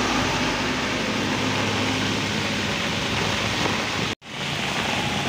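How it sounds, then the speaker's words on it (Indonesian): Heavy rainstorm at a bus terminal: a loud, dense, steady roar of pouring rain fills the whole stretch, broken by a single abrupt cut near the end before resuming. "Dan di belakang tempat ini disertai hujan badai ini"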